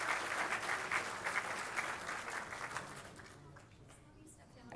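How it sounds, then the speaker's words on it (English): Warm audience applause for Neat and Tidy Award winners at a Lakewood city celebration, steady clapping for about three seconds that then fades away to quiet room sound. "Let's give all of our Neat and Tidy Award winners a big round of applause."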